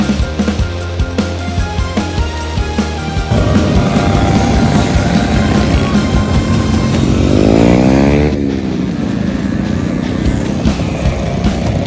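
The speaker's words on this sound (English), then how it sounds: "Burnouts, donuts, skids, fast," Motorbikes revving and doing burnouts at the end of Syds Run 2020 at Smash Palace in Christchurch, New Zealand, with loud sustained engine roar that rises into a sweeping high-revving surge midway, amid crowd noise.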